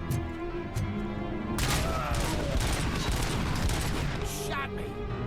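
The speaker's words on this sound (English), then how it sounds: "Assault rifle" Assault rifle fire in the game Robocop Rogue City comes as dense, rapid bursts of loud gunshots over a continuous roar of combat.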